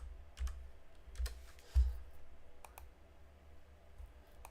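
Keys tapped on a computer keyboard during a crossword-solving session, a few scattered clicks and one firmer press over a low steady hum, no talking.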